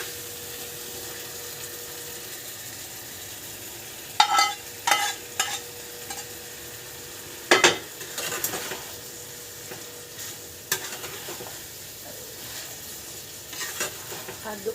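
Fried jengkol being stirred into spicy-sweet balado sauce in a pan, with a few distinct scraping and clacking stirs standing out over a soft, steady sizzle, no talking.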